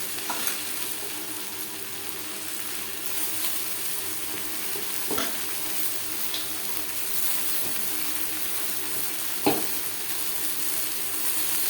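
Chopped red amaranth leaves sizzle in a pan with browned onion, a steady close frying hiss broken by a few sharp stirring scrapes, with no talk.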